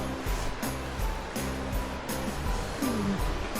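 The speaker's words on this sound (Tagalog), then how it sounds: "Dito yung may dagat na hindi ka naman makaligo, no?" Sea waves wash against the shore near Slains Castle in a steady, broad roar, with wind buffeting the microphone and a few faint low murmurs underneath.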